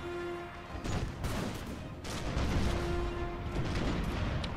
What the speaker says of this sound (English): Firing in towards the forest, where the Swedish elites are hiding